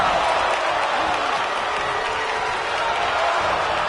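Steady, dense crowd roar and cheering from a WWE 2K24 wrestling video game arena, a continuous wash of noise at even loudness with faint scattered clapping and no clear voice over it.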